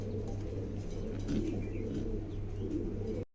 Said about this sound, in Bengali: চমৎকার এক জোড়া কবুতর, অ্যান্ডোলেশন থেকেই আসে, কিন্তু একটা ব্লু আছে